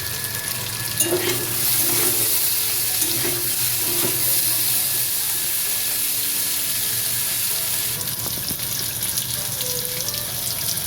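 Spices, turmeric and then ginger-green chili paste, sizzle in a pan for chickpea ghugni, a steady close hiss of frying that runs throughout with a few soft stirring knocks and no voices.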